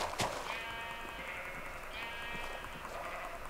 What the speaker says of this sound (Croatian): Ovo vidi bijela ovca.